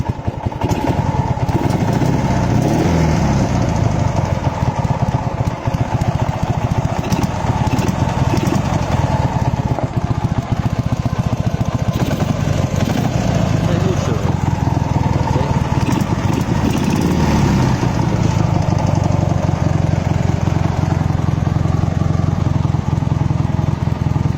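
A Dnepr MT10-36 motorcycle engine with a flooded PZ30 carburetor runs loud and continuous nearby, with a rough, uneven note throughout.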